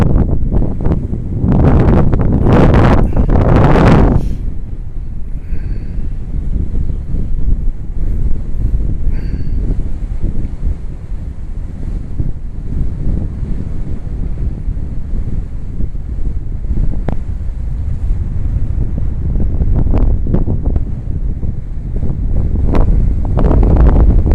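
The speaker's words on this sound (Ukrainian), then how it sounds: "а на горі вітер, що ужас." Strong wind roars and buffets the microphone continuously on a mountain top near the upper funicular station in Yasinia, loud and close, with heavy gusts at the start and a constant low rumble throughout.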